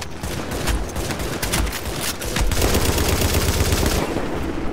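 Belt-fed machine gun in a shooter video game, rattling off long continuous bursts of rapid automatic fire, loud and close, with no voices.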